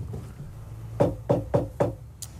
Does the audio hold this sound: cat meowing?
no